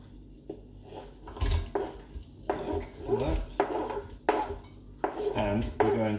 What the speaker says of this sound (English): Alright, so now that that's ready, we're going to chuck in our onions.